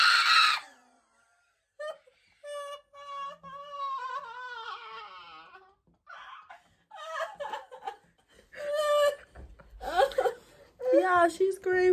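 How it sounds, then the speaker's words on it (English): A woman lets out a sharp scream of pain as a wax strip is torn off, followed by whimpering, wailing and laughing cries in short bursts, close and loud, with people talking in between. "She screamed because it got off."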